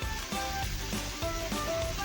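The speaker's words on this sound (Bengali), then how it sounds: "দুটোকে ভালো করে ভেজে নেব।" Yardlong beans and potatoes fry in a pan with a steady, close sizzle that runs the whole time, with light scraping of a spatula and no talking.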